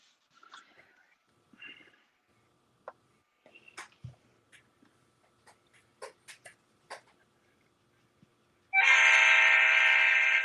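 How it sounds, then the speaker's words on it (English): A train horn blasts loudly for about two seconds at the end after quiet trackside surroundings. Faint scattered knocks, clicks and a brief voice come before it. "Oh, I hear your trains."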